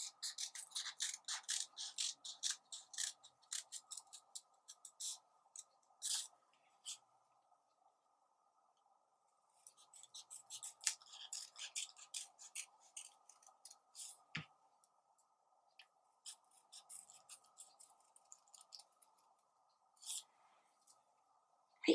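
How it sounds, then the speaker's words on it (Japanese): Scissors snip slits into origami paper for a star decoration, a series of quiet close crisp clicks and cuts in bursts, pausing midway, with a faint steady hum beneath. "同じように切り込みを入れていきます"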